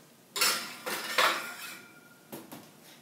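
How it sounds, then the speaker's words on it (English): Cupcake tray slid into a preheated oven at 350 degrees Fahrenheit, heard as a few close metallic clanks and scrapes of the pan against the rack, in separate bursts with short pauses between. "now we're going to put it in our preheated to 350 degrees Fahrenheit oven"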